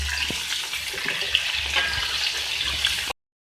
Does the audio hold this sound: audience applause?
no